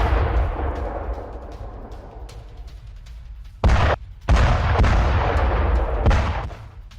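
Missile strike on an oil refinery in Kharkiv, war footage: heavy booming blasts and rumbling detonations, loud and close, with two sharp, abrupt explosive bursts standing out near the middle.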